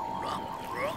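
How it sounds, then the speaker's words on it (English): Tiny cartoon frogs croak from trees by the shore, a single faint, brief chirping call. "There's a group of tiny frogs in the trees"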